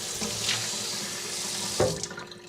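A kitchen tap runs steadily into a sink as a rusty cast iron pan is rinsed, close water hiss with a clunk of the pan near the end.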